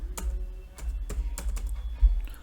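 Fingers type a date on a computer keyboard, a quick run of close, crisp key clicks in short bursts with brief pauses between them, no voices.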